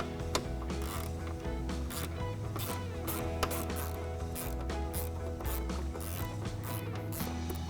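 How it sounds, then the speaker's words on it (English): A hand ratchet clicks away steadily on 10mm bolts holding a Jeep JL Wrangler intake tube to the subframe, its rapid pawl ticks coming in repeated bursts, close and fairly loud, with no talking. "Now remove both of these 10mm bolts that are holding the intake tube onto the subframe"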